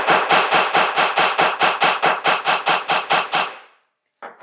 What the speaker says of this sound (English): What I like to do is kind of hammer the one end of my wire flat